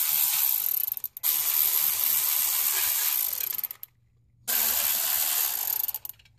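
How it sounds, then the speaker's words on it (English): Lifter retainer bolts on a Chevy 350 V8 come loose under a ratchet in two long bursts of rapid clicking, close by, with a short pause between them and no talking. "These are 1/2-inch bolts here, and there's 3 of them. So I'm going to go ahead and take that retainer off now."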